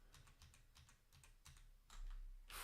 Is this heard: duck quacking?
no